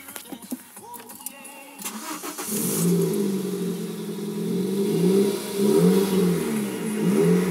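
A Toyota with a freshly patched exhaust pipe cranks and catches, then idles and revs in a loud, rough, rising and falling drone close by, with a few clicks and handling noises before the start.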